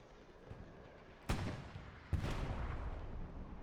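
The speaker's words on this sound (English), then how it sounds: "That is the Allies' artillery now coming down onto dugout" Two heavy booms of Allied artillery fire in the video game Hell Let Loose land about a second apart, each followed by a rumbling tail, moderately distant.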